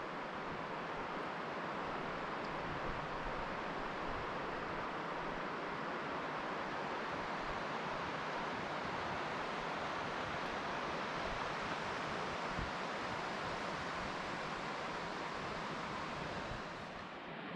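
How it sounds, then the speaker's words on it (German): Small mountain waterfalls beside a hiking trail near Stanley Glacier in Kootenay National Park give off a steady, faint rushing hiss of falling water that carries on unbroken with no voices. "Es sind wieder überall kleine Wasserfälle."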